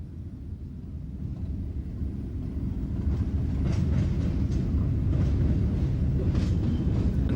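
A banker locomotive shunts local trip wagons near Buxton in the Peak Forest area, a low continuous rumbling drone with faint rattles and clanks, moderately distant and steady, no talk.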